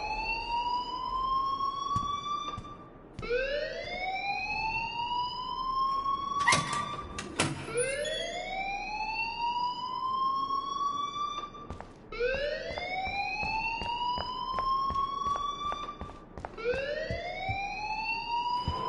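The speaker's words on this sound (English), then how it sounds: "please turn off that alarm since that's your job" Piercing wailing alarm in the game Life is Strange, rising in repeated sweeps every few seconds, loud and continuous, with a few faint knocks and clatters underneath.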